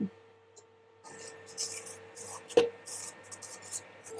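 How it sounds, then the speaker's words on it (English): A hazelnut mix is folded into egg and butter cake batter in a bowl, heard as soft, close scraping and rubbing strokes in an irregular rhythm, with one sharper knock partway through. "So I'm folding this nut mix into the eggs and butter mix"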